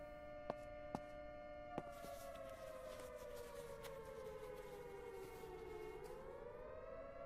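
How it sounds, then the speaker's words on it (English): An air raid siren wails through the SurrounDead zombie survival game, a loud steady rising-and-falling tone with a few sharp clicks near the start and no talk. "Air raid siren, don't know what the hell it's for."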